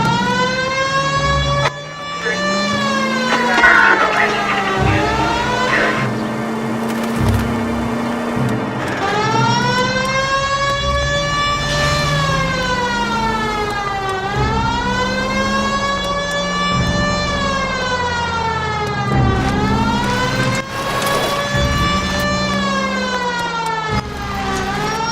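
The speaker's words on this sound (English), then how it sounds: "At least if you put the siren on, it'll let people know what's happening before you hit them" A police car siren in L.A. Noire wails loudly in rising and falling cycles over engine noise, rich harmonic sweeps repeating throughout without voices.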